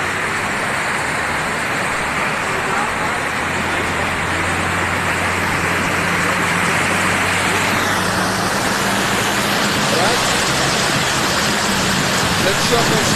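Trucks roll along a desert road in Kuwait with a loud, continuous roar of engines and tyres, steady and close, a voice speaking over the traffic noise.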